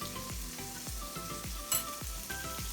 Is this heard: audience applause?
no